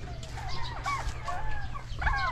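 Chickens on a farm give short, repeated clucking calls over a low steady hum, several birds sounding close in quick overlapping bursts with no talking.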